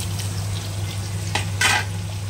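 Cinnamon stick and cumin seeds crackle in hot oil for a mutton Moradabad biryani, a steady close sizzle with a couple of brief stirring scrapes over a low constant hum.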